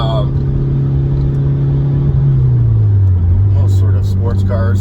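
A Mitsubishi Lancer Evo 6 pulls hard in second gear, its engine note a loud, steady drone that rises and falls slightly, with a few faint knocks near the end.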